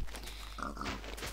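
A short pig grunt with a synthetic, game-like tone from Minecraft, heard alone against low steady background noise.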